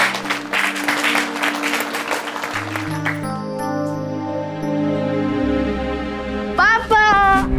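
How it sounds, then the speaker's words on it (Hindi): Audience applause greets a debating competition award winner at a ceremony, loud dense clapping for about three seconds before music takes over with sustained tones and a rising flourish near the end. "जोरदार तालियों से विवेक का स्वागत करिए।"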